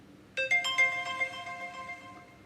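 An Apple text message alert tone plays clearly on its own, a quick run of bright chiming notes that ring out and fade over a couple of seconds.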